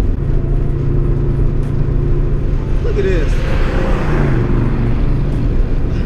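A Mustang Cobra fitted with a BBK off-road X-pipe exhaust and a tune drones along under steady engine rumble, with a brief rise in revs midway while people talk over it.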